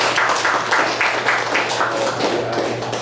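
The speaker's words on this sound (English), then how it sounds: "So please give the panelists a good round of applause." Audience applauding panelists at an annual membership lunch, a steady roomful of clapping with rhythmic bursts and a low hum beneath, fairly loud and continuous for a few seconds.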